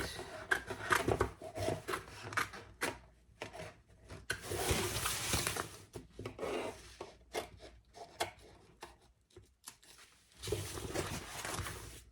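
Scissors cutting through the fabric interior of a large jumbo beach tote bag, with bursts of rough rasping snips and rubbing of material in irregular spells, close and moderately loud, no talking.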